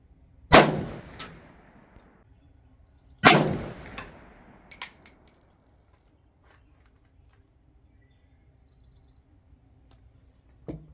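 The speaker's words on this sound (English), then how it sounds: "let's see how the next 3 shots are going to do" A Romanian RPK rifle fires two loud, sharp shots a few seconds apart at steel targets, each followed by decaying echo, then a few faint metallic clicks and taps in the quiet afterwards.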